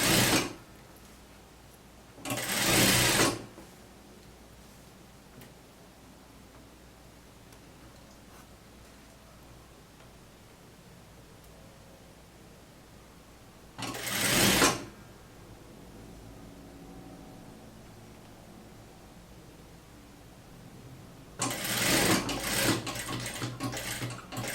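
A sewing machine stitches fabric in three short loud bursts, each lasting a second or two and separated by long quiet gaps, with the last run the longest.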